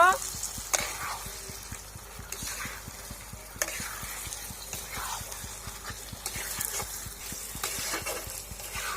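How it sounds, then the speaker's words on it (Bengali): Magur fish fries in spiced oil in a pan and is stirred repeatedly, a continuous sizzle with rapid rhythmic scraping and tapping from the utensil, with faint talk in the background. "2 থেকে 3 মিনিট ভালো করে কষিয়ে নিচ্ছি আমি।"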